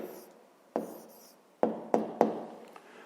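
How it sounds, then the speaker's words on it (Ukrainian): A pen writes down a math answer on paper with faint close scratching, followed by several sharp taps as strokes land, in a quiet room. "Записуємо відповідь."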